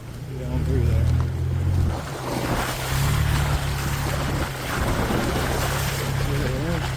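A four-wheel-drive vehicle in four-high ploughs through a deep muddy water hole, giving a rumbling engine drone under heavy sloshing and churning water. The wash surges and fades, with wind buffeting the microphone.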